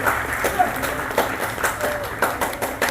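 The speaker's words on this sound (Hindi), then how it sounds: "जोरदार ताली ठोक लीजिए" Applause from an audience at a motivational sales meeting, a dense clatter of many hands with brief louder bursts, some voices mixed in throughout.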